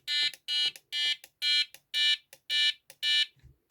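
Seven short, high electronic beeps in a steady, quick rhythm from a Prologic carp fishing bite alarm receiver, fairly loud and close, followed by a faint low thump.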